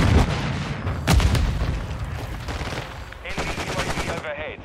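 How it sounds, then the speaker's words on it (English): A flash grenade is thrown and goes off during a Modern Warfare 2 firefight, heard among loud gunfire bursts and booms. A sharp blast is followed by a high ringing tone near the end, and a brief voice is heard. "Throwing flash grenade."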